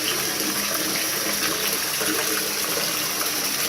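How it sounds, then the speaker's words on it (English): Running tap water rinses soap off a trombone, a dense continuous rush of water, close and loud, holding level for the whole stretch. "let the water run through the tubes"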